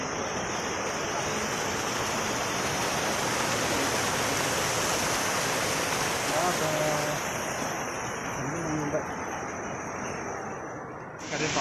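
Srambang waterfall at Jogorogo roars as an even, continuous wash of falling water heard near its top, with a thin high tone running over it and faint voices underneath.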